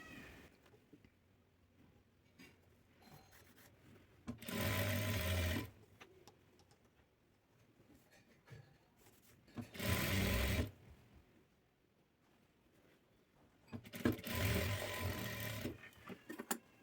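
A sewing machine runs an edge stitch along the side slit opening of a dress in three separate bursts of steady mechanical whirring, each lasting about a second or more, with quiet handling noises between them.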